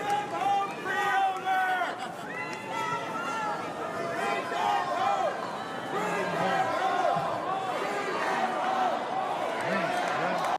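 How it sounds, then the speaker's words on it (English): A gigantic crowd at a Republican convention chants "bring them home" in a loud, continuous roar of many voices, with rhythmic shouted phrases rising and falling across the whole stretch. "Bring them home is what they're yelling"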